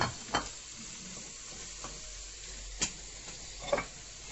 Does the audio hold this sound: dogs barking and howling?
no